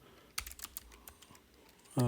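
Quick keystrokes on a computer keyboard type a file name in a short burst of crisp clicks, close and clear, followed by a brief voice at the end.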